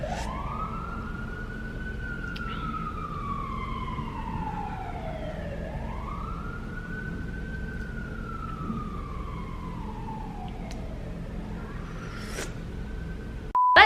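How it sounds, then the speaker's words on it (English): Emergency sirens wail in long rising and falling sweeps over steady traffic rumble, moderately distant, with a brief sharp noise at the end. "The sirens are so loud"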